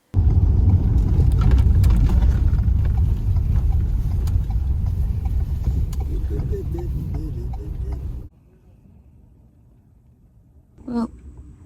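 A camper van drives along an inland road in Ireland with a loud, steady engine rumble and road noise for about eight seconds. The sound then cuts to near silence, and a brief faint sound follows.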